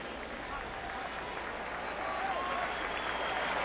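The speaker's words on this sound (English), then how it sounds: "the applause starts for the defending national champion Oklahoma Sooners as they head to the locker room" Stadium crowd at a 2001 college football game, North Carolina vs Oklahoma, applauding the defending national champion Oklahoma Sooners as they leave for halftime; a broad, distant roar of clapping that builds slightly, with a commentator's voice over it.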